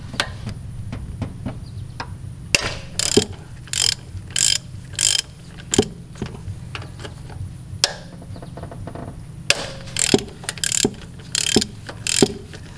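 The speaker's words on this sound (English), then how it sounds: "we can actually unbolt it from the bottom here. There's two bolts that hold it into the intake manifold." A ratchet wrench clicks in repeated rapid bursts while a 12 millimeter socket loosens the EGR valve bolts from the intake manifold of a 2010 Subaru Forester, with close metallic ratcheting and occasional knocks between strokes.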